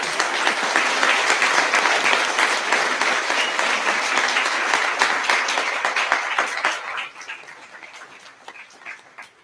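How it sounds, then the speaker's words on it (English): At a sixth grade recognition ceremony, an audience gives a full round of applause, steady and dense for several seconds before tapering into a few scattered claps. "Let's give them a round of applause."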